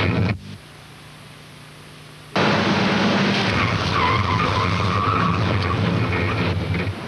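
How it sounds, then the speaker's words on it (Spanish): A car braking hard with its fully electronic ABS anti-lock system engaged, giving a loud, sustained tyre skid and rushing road noise after a quieter opening stretch, with no talking. "Este ruido y la reacción del pedal son normales en el sistema de antibloqueo enteramente electrónico"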